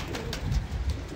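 A pigeon gives a soft, low coo, faint and brief against a muffled background.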